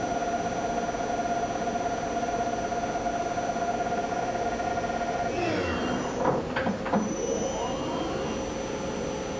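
A Nakamura Tome Slant-3BSL two-axis CNC turning center spindle spins steadily in high range at about 1500 RPM, a continuous tonal whine and hum, with a brief sweeping shift midway.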